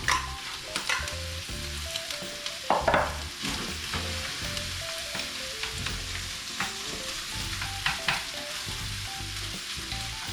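Egg and rice fry in a pan at a campsite, a continuous busy sizzle with frequent stirring scrapes and clatters of a spatula on metal, no voices.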